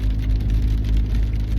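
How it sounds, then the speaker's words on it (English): Rain drums steadily on a car during a drive on a cloudy day, a dense wash of patter over a deep road and engine rumble inside the cabin, continuous and fairly loud. "I can't see much because the clouds are so low and it's raining."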